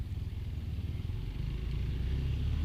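Motorcycle exhaust rumbling at the roadside, a low, fairly faint throbbing drone that swells slightly toward the end.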